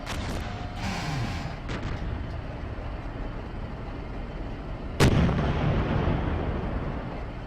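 Gunfire and explosions in the tank game Steel Beasts during a Leopard 2A4 company town defense: sharp blasts near the start, then a loud boom midway followed by a rolling rumbling decay.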